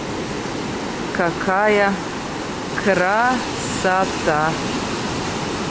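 Sea waves at a beach in Alanya, Turkey, a continuous broad wash of surf that stays steady throughout, with a voice speaking briefly over it.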